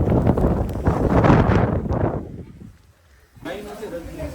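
Strong gusts of wind buffet and roar against the microphone during heavy rain, dropping briefly before rising again, with rain-like hiss in the background.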